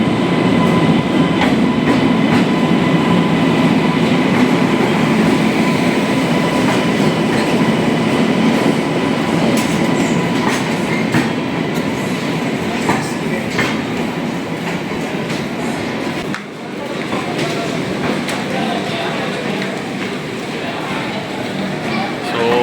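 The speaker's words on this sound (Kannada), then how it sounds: "ಇದೇ ಟ್ರೈನಲ್ಲಿ ನಾವು ಹೋಗೋದು." A train stands at a station platform, with a continuous loud rumble, clatter and hum from the railway cars throughout and occasional knocks over the steady noise.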